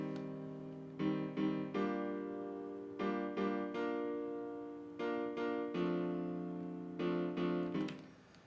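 Piano from a remix plays quiet, repeated chords in a steady pulsing pattern, each group struck in quick succession and left to ring, on its own.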